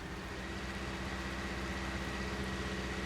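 A 1955 Oliver tractor engine in Farming Simulator 19 idles with a steady, droning rumble. The sound is continuous and moderately close, with no voices.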